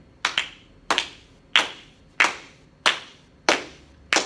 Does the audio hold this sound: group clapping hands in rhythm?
yes